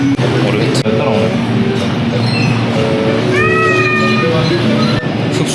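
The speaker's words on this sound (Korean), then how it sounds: "그런데 옆에 보니까 고양이가 또 다른 고양이하고 기싸움을 하고 있더라고요." Two cats squaring off beside a FamilyMart in the Taiwanese mountains, drawn-out tense meows rising over steady background noise, with a person's voice mixed in.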